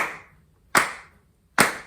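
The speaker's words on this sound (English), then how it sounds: "You start off with a clapping pattern." Hands clapping out a pattern to open a welcome song: three sharp, close claps spaced evenly about three-quarters of a second apart, with nothing else heard.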